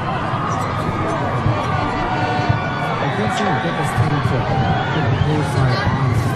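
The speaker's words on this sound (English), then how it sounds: "the Lamar crowd going crazy on that sideline" A Lamar high school football crowd at the MSHSAA Show Me Bowl roaring and cheering after a touchdown, a dense, steady wall of crowd noise with a commentator talking over it.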